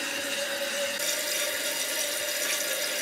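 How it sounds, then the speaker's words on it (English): Water runs steadily into a toilet tank as it refills after the supply valve is opened, a continuous close hiss and trickle that holds an even level throughout. "make sure that you're watching the water fill up appropriately at a steady pace"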